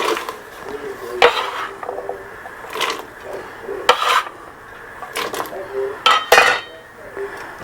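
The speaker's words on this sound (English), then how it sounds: "So we'll put the taters in here." Cubed potatoes go into a pot for green chile chicken chowder, with scattered clanks, scrapes and clinks of utensils against cookware in short bursts and quiet gaps between.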